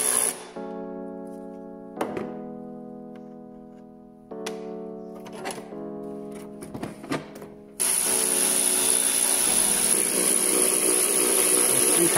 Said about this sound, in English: The battery terminals are just 10mm heads, so you can just undo them and tuck them out of the way